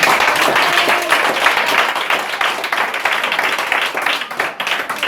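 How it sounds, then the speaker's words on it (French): Church congregation applauding, a dense continuous clapping from many hands filling the room, loud and steady with slight swells, faint voices mixed in. "On acclame fortement le Seigneur."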